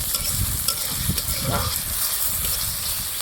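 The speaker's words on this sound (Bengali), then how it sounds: "পেঁয়াজটাকে আমি হালকাভাবে ভেজে নেব" Chopped onion, whole cumin and bay leaves frying in oil for a country chicken curry, giving a steady, close sizzle with occasional stirring sounds.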